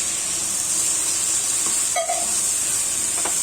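Water poured into a pan of frying coconut and banana flower masala gives a steady, loud, hissing sizzle throughout, with a few faint clinks and no speech.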